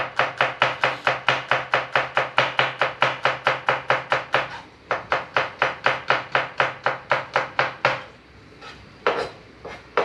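Rapid, steady knife chops on a board, about three strokes a second, cut through an onion for several seconds, then a pause and a few final slices; close and crisp with no talking.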